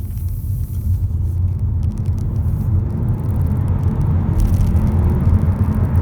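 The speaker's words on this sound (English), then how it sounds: "So let's accelerate up the road." Heard from inside a 2021 Hyundai Kona Hybrid with a dual-clutch gearbox, a steady low road rumble and engine drone builds as the car accelerates up the road, loud and continuous with no talk.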